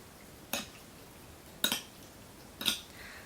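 Spoon clinking against a bowl while a seasoned liver mixture is stirred, three distinct bright metallic taps spaced about a second apart over a quiet background.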